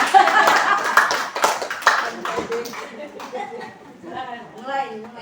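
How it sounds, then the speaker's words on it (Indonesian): Meeting participants at a school program session in Bekasi clap briefly, with a burst of hand claps that fades as a voice takes over and keeps talking. "Tepuk tangan dulu dong biar saya semangat"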